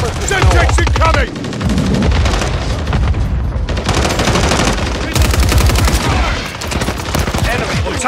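Dense automatic and rifle gunfire crackles nonstop in a Call of Duty Modern Warfare III multiplayer objective match, loud rapid bursts with heavy booming shots overlapping, broken by one brief lull midway.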